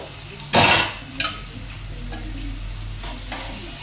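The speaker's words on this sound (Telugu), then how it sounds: "మసాలా పచ్చివాసన పోయే వరకు బాగా ఫ్రై చేసుకోవాలి" Masala with coconut paste sizzling in a hot pan with a spoon stirring and scraping, including a sharp loud scrape near the start and softer clinks afterwards.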